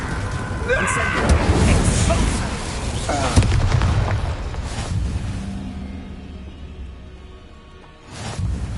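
An Incendio fire spell cast in Hogwarts Legacy gives booming, crackling bursts of flame over a dense mix of game combat effects, loud and close, fading briefly before another burst near the end.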